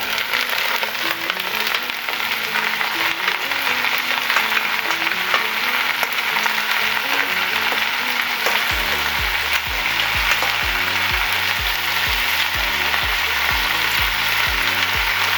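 Leeks sizzling in a pan with chicken, a steady close frying hiss with stirring scrapes; from about nine seconds, background music with a regular beat plays underneath.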